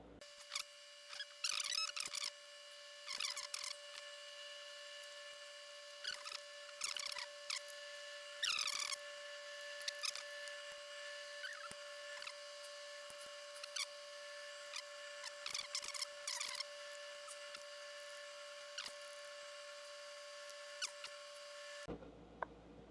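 Screws being driven back into a Telecaster electric guitar pickguard, with a run of short, sharp clicking and ratcheting bursts spread across the stretch over a steady faint hum, close and fairly quiet.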